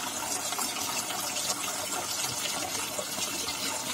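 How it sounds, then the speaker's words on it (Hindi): Tap water runs steadily into a pet turtle's container, producing a continuous close gushing and splashing that fills the clip with no talking. "मैंने पानी चालू कर दिया है"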